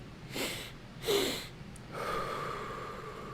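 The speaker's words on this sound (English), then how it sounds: "breathe in twice through the nostrils and then deep sigh out of the mouth" A person does a breathing exercise: two quick, sharp sniffing inhales through the nose, then a longer, deep, breathy sigh out through the mouth, close and quiet.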